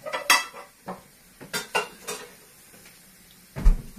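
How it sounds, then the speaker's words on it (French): Chef Michel cooking saucepans clatter and clank as they are handled in a kitchen, a quick series of sharp metallic knocks followed by a heavier thud, with no talking. "Pardon, je vais utiliser mes casseroles de chef Michel."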